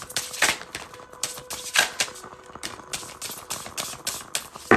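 Tarot cards shuffled by hand give off quick, crisp riffling clicks in rapid bursts, close and fairly loud, with no talk over them.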